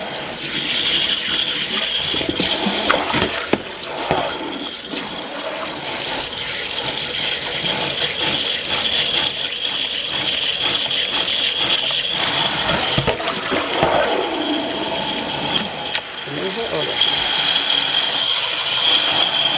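Steady running tap water splashing into a sink while cloth dolls are rinsed in lukewarm water, a continuous loud wash with occasional handling knocks and shifts in the flow.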